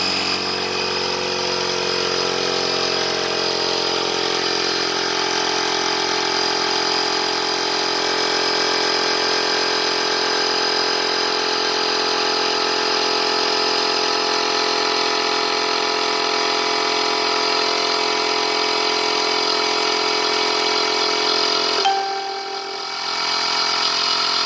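An electric air ride compressor pumps up a motorcycle's suspension, a loud, steady motor whine with a constant tonal hum that runs for about twenty seconds before a brief dip near the end.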